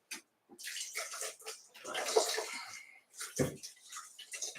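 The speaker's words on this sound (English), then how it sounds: "I'm just adding some water to the blender." Water is poured into a blender holding pepitas, giving a bubbling, splashing flow in uneven bursts with short pauses, close and moderately quiet.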